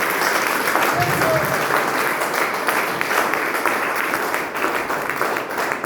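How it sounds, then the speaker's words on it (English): A church congregation claps in praise to Jesus, with sustained, full-room applause going on throughout, while voices call out and talk over the clapping. "Give Jesus a clap of praise."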